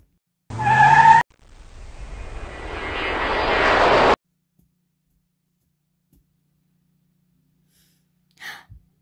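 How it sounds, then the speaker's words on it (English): A cartoon car arrives as a brief honk-like blast, then a rising engine roar with tire screech that cuts off abruptly, followed by silence and a small faint sound near the end. "We need the car. Bring in the car."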